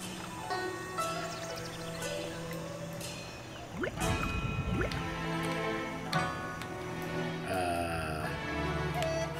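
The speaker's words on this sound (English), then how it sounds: "Watch where you're splashing that thing!" Liquid dripping and splashing in World of Warcraft, set in the Pandaria region during a beer-brewing quest with Chen, with wet plops and drips layered over game music and effects, with a louder burst of splashing partway through.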